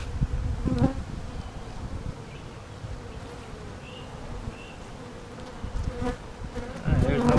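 Honey bees buzz steadily around open beehives on a hot day, a continuous close drone with a few louder passes near the end, with no talking.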